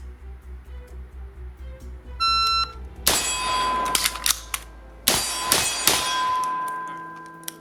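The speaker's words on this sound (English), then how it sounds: "we're going to go ahead and do some reloading drills" Rifle shots from a PSA 16-inch M4 upper during a reload drill at a steel target about 20 to 25 yards away. A shot-timer beep is followed by two loud bursts of shots, with ringing metallic clangs and a pause between them.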